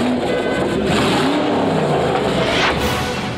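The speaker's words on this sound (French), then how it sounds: "Un gros V8 qui provoque un cataclysme à chaque démarrage." A Citroën GT prototype with a big V8 engine revs hard in Paris, a loud, close roar that climbs and surges in pitch with raspy exhaust, sounding alone without voices.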